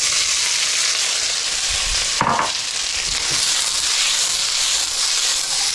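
Carrot and pepper fry in sesame oil with a loud, steady sizzle close by, one brief burst of stirring or tossing partway through, and no voices.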